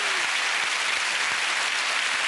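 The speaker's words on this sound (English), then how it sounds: "Give it a big round of applause" A studio audience at a game show bursts into continuous, full applause, a dense even roar of clapping that stays loud throughout without a break.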